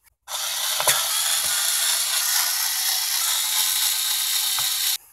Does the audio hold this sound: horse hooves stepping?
no